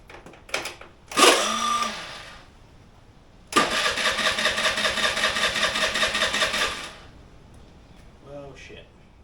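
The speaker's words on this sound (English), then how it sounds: "The motor obviously turns over freely, you guys have heard that." Small Honda Today NVS50 50cc scooter motor cranking over without firing, a short burst and then a longer steady churning run of about three seconds, loud and close, with a brief clatter at the end.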